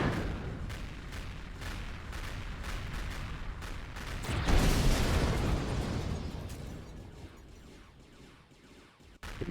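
Turret gunfire in the space game Empyrion Reforged Eden 2, a rapid string of booming shots and explosions, loudest midway and then tapering off, with no talking.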